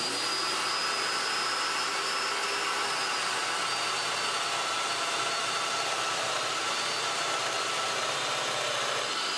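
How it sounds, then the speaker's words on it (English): A domino joiner cuts mortises in wood for a display cabinet, giving a steady, loud motor whine with a broadband rush that holds without a break throughout, and no one speaks. "I'll use those as a guide for the domino machine when I cut the mortises"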